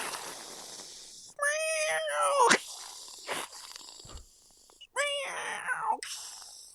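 Two people imitate a cat, one giving two drawn-out meows, the other sharp breathy hisses, alternating close to the microphone, with short pauses between.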